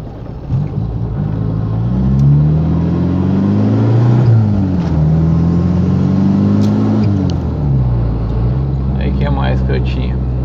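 A Ford Escort with a straight-through exhaust and a single muffler at the end revs repeatedly, its engine note rising and falling in loud swells with a deep rumble, close to the listener.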